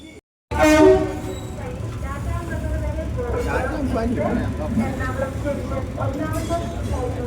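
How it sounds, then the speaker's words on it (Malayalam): A train bound for Ernakulam, Kerala, rumbles steadily nearby at a station, with a horn blast near the start and a continuous roar of wheels and engine, voices faintly mixed in. "ട്രെയിനും കാര്യങ്ങളും വന്നിട്ടുണ്ട് എല്ലാവരും ഇതാ ട്രെയിൻ കയറാൻ പോവാണ്"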